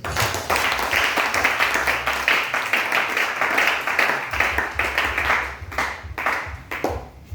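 Church congregation applauding the Lord, loud sustained clapping from many hands in a dense, continuous patter that thins slightly toward the end.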